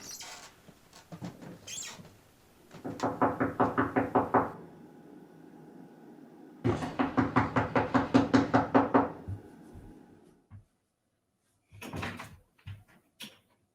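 Knocking and banging on a door in a stage production, two rapid runs of loud, close, evenly spaced blows separated by a pause, followed by a few scattered thuds.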